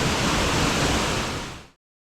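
Waterfall on Red River, Cape Breton Island, roars as a loud, steady broadband rush of falling water close by, with no voices, cutting off abruptly near the end.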